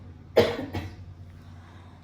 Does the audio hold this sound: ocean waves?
no